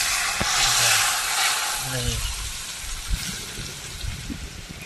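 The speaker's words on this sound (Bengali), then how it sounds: "এবার এই গরম সরষের তেল ঢেলে দেবো" Hot mustard oil is poured over raw green mango and two kinds of mustard seeds for aam kasundi. It gives a loud, steady sizzle and frying hiss that slowly fades, with faint stirring and clinks near the end.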